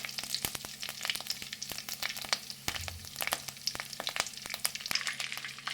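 Cumin seeds, coriander seeds and chana dal frying in hot oil for curry leaf rice, a soft, steady sizzle dense with rapid crackles and pops, fairly quiet and uninterrupted by speech.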